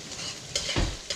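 Onions being stirred in a hot wok for japchae, with close scraping strokes over a steady frying sizzle, a few sharper utensil scrapes standing out.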